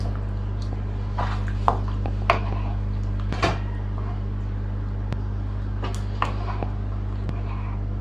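Chicken curry stirred in a pot: scattered scraping and squelching strokes of the spoon, a few sharp clinks against the pot, spaced over eight seconds above a steady background hum.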